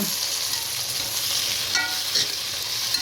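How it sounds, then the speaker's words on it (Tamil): Tomato stirred into a hot pan of frying food, a steady sizzle with scraping spoon strokes, close and alone without voices. "ஒரு தக்காளி நல்லா கலந்து போட்டுக்கிறேன்"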